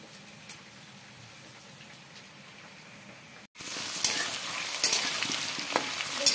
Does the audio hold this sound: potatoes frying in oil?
yes